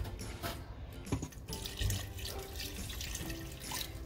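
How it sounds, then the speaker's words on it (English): Water runs steadily into a pot of uziza soup, a continuous close splashing and trickling stream lasting several seconds with no talk. "So I'm gonna add more water to it."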